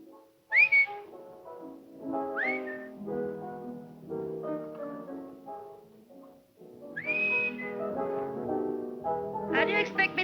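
A man whistles a lively tune in a 1949 crime thriller, his phrases rising and sliding through several bursts with short gaps between, close and clear with no talk over them.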